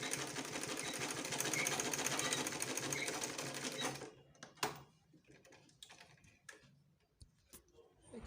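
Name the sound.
sewing machine stitching a folded quarter-inch hem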